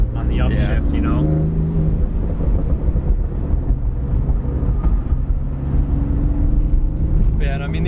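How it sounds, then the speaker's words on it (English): Tuned BMW F80 M3 with a stage 1 VF HEX tune accelerating on wet roads, its turbo spooling up through a steady loud cabin engine drone while people talk over it. "now I can actually hear the turbo spooling up a lot more"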